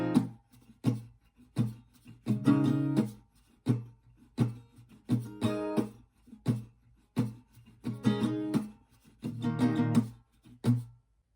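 Acoustic guitar plays the first part of chorus 1 of a song, steady rhythmic strums with some muted beats and fuller ringing chords, close and unaccompanied.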